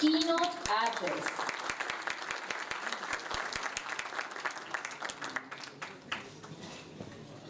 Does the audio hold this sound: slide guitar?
no